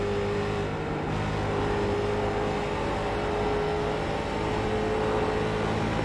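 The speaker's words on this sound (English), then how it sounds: "It's going to be a lot of full throttle, and you're just going to hear me playing with throttle and the wheel and everything" A Late Model race car roars at full throttle around Rockingham in the CARS Late Model Tour sim race, a loud, steady engine drone with a constant pitch held for the whole stretch.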